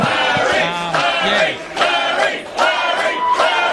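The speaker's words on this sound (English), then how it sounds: "Cheering out Steve Lamont for his 100th first grade game." Rugby crowd at a premier-grade club match between Southern Beaches and Hamilton Hawks, cheering and shouting loudly in waves as a player runs out for his 100th first-grade game, with swelling roars and brief dips.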